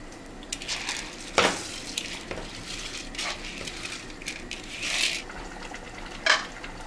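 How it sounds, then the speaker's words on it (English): Rice being stirred in a pot for Nigerian party jollof rice, with soft scraping and stirring, occasional spoon clinks against the pot, and a faint sizzle underneath; no talking. "So I will mix the rice inside."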